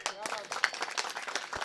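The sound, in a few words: audience clapping at a comedy kirtan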